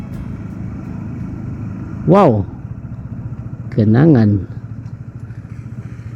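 Motorcycle engine running on a winding uphill mountain road near Sukamakmur, Jonggol, with a steady mid-pitched drone and two louder revving swells while a person speaks briefly over it.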